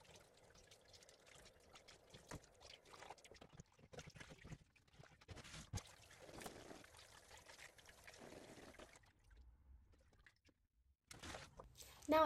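Water pours and splashes in uneven bursts while cyanotype prints are rinsed in a tray, faint and close with gaps of near silence between trickles.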